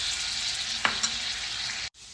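Ginger garlic paste and cumin seeds sizzling in about three spoons of hot oil, a steady close hiss with a couple of brief sharper spits before it cuts off abruptly.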